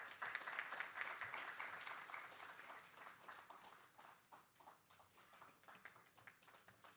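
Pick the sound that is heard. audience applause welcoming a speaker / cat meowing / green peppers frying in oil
audience applause welcoming a speaker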